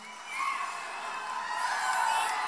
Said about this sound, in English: Boy, oh boy, what a crowd.